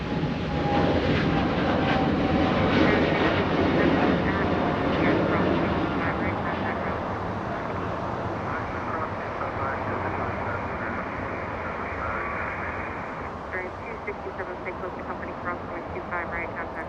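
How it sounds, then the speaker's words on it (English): A heavy jet departing runway 25 right at LAX produces a loud, sustained roar that peaks early and then slowly fades as it climbs away, with a voice speaking over the noise. "That was a super heavy, a heavy departure on 25 right."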